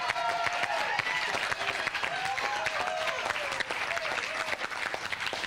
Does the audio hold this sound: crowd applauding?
yes